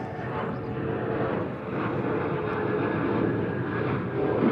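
A JetBlue airliner going around at JFK airport makes a loud, steady jet roar that holds through the whole stretch with no voices over it.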